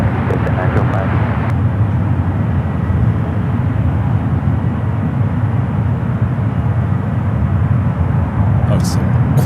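An airplane touching down on runway 28 right at San Francisco airport, a loud, steady roar of engine and rushing noise that persists throughout, with a radio voice talking over it.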